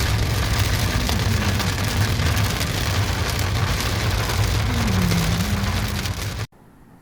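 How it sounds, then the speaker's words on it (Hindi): Steady rain drums on a moving car's body during a road trip through hilly country near Saputara, with low road noise beneath. The sound stays loud and constant, then cuts off abruptly near the end. "बारिश तो अभी भी हो ही रही है।"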